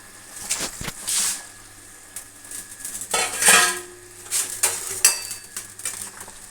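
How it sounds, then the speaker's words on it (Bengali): Fried fish pieces dropped into a boiling potato and tomato fish curry, giving several clattering pan and utensil knocks with brief splashes and sizzle, close and moderately loud, with no talking. "এই যে আমি ভাজা মাছগুলো দিয়ে দিচ্ছি"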